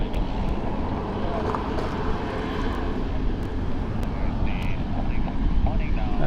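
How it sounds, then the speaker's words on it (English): A Thai Airways airliner taxiing out to runway 34 left at Sydney Airport, a continuous broad engine rumble with wind noise and a voice talking over it. "we've got Thai Airways taxiing out to 34 left"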